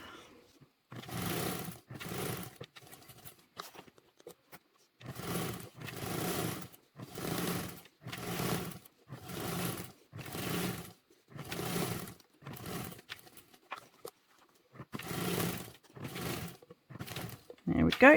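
A sewing machine top stitches a convertible duffle bag in short repeated runs of a second or so, each separated by a pause, a regular stop-and-go rhythm heard close up.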